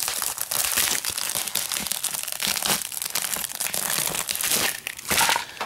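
Plastic and glass layers of a flat screen computer monitor are pried and cracked apart, giving loud, dense crinkling and snapping crunches that continue for several seconds up close.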